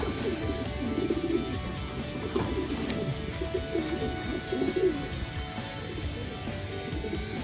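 Racing pigeons coo steadily in a loft during derby race training, soft repeated throaty calls overlapping one another at close range, with a few faint chirps.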